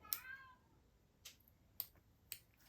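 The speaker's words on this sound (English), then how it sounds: "Apologies for the cat meowing in the background." Hungry cat meowing in the background of a room, one drawn-out meow followed by a few short faint calls, quiet and somewhat distant.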